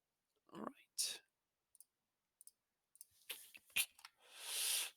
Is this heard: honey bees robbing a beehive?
no